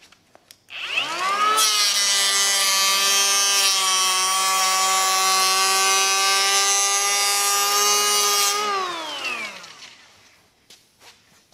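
A Parkside cordless mini planer set to a 2 mm cut whines up, then shaves a board in one long steady pass of bright, high buzzing that holds for about seven seconds before spinning down, with no voices.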